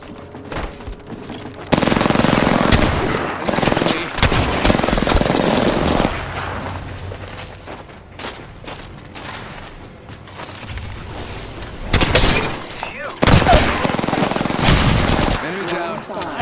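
Gunfire in an Apex Legends match: loud rapid bursts of automatic shots in two heavy volleys, close and intense, with quieter stretches of game noise between them.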